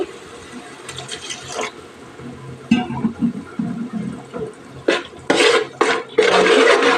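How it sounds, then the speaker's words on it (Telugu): Water splashes into chicken masala in a cooking pan for pulao, with quiet pan clinks at first and then several short, louder pouring bursts near the end. "కొంచెం వాటర్ అయితే వేసుకుందామండి"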